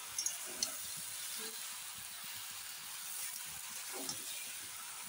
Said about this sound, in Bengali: আস্তে আস্তে নেড়ে নেড়ে কমাতে হবে।